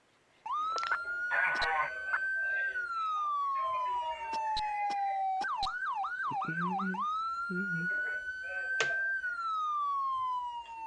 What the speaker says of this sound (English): as we watch this ambulance respond